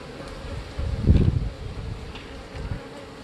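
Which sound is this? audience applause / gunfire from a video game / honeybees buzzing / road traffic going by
honeybees buzzing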